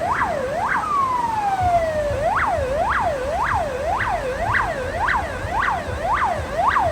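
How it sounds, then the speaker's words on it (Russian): A fire engine races along a mountain resort road near Sochi with its siren wailing in rapid, repeating up-down sweeps, loud and close, after an opening long descending tone, with traffic rumble beneath. "А, это не скоро, это пожарная."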